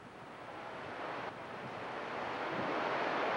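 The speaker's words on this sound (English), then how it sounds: "So it's very windy now." Strong cold autumn wind in Germany rushes and buffets steadily, a broad hissing roar that grows slightly louder, with no voices.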